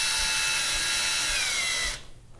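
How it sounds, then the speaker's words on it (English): A power drill drives a screw into an acoustic foam panel, giving a steady, loud whine that runs for about two seconds and then cuts off abruptly, leaving near silence. "Seems kind of weird screwing into foam."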